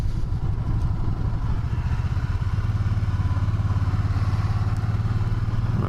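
A 2013 Can-Am Spyder ST three-wheeled motorcycle engine idles with a loud, steady, close-up throb. Its low rumble pulses rapidly and continuously with no speech.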